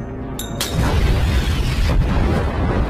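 A sharp high ping is followed by a loud, booming blast that rumbles and roars on for a few seconds, like a grenade going off nearby.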